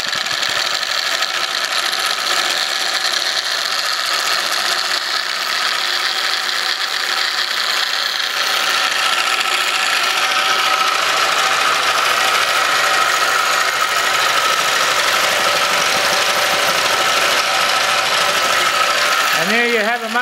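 A small engine runs on its own exhaust gases, with the exhaust hose plugged back into a bubbler, giving a steady mechanical whirring drone that holds constant throughout.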